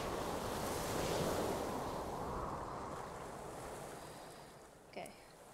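Wind and rolling waves in the Stormworks: Build and Rescue game give a broad, rushing wash of surf that swells early and slowly eases off, with a short bump near the end.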